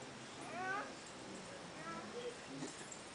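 A small cat gives a couple of soft, thin meows amid faint background voices, fairly quiet and close.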